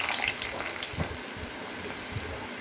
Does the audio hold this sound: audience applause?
no